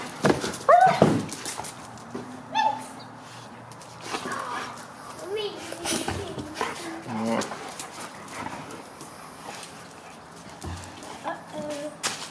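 Big Chinook dogs romping around a little dog toy outdoors, with scattered barks, whimpers and playful yelps over ongoing people's chatter, and a rooster-like call in the background.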